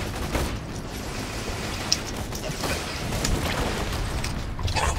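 Gunfire in Borderlands 2, a dense mechanical rattle of shots with clanking and a few sharper cracks, steady and moderately loud, with no voices.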